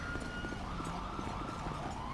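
A fire engine's wailing siren from GTA 5 sweeps steadily up and down at a distance, layered over continuous game ambience with no talking.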